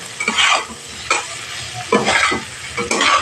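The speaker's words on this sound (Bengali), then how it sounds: "অল্প পরিমাণ হলুদ অল্প পরিমাণ লবণ দিয়ে ভালোভাবে নাড়াচাড়া করে ভেজে নিতে হবে" Cauliflower pieces fry in hot oil with turmeric and salt while a spatula stirs them, giving a close, loud sizzle broken by four or five scraping stir strokes, with no talking.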